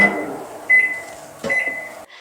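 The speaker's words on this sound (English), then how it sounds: "We've just popped the butter into the microwave for about 20 seconds." A microwave oven hums steadily while melting butter, a constant drone with a steady tone that swells twice before cutting off near the end.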